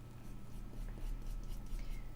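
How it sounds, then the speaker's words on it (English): Soft, scratchy strokes of a brush applying pastel across paper, a faint continuous dry scraping over low background hum. "this brush is the one that's going to do it."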